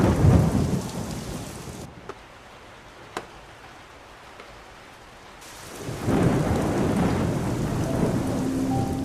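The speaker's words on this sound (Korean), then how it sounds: "모두가 천둥 소리에 겁을 먹지만" Heavy rain pours in a thunderstorm, loud and close at first, fades to a quieter lull with a few sharp cracks, then swells back with deep rumbling thunder and dense downpour.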